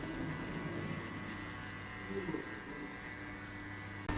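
Electric hair clipper buzzing steadily through a burst fade haircut, a continuous close hum with slight shifts in pitch as it moves over the hair, with faint voice in the background.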